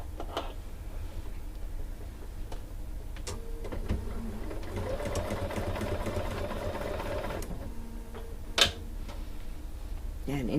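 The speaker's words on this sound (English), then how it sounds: "You always need to backstitch there for these Y seams." Sewing machine stitching and backstitching a Y seam on a quilt, a steady mechanical whir that rises in the middle for a few seconds, with faint clicks and a sharp tap near the end; quiet and close.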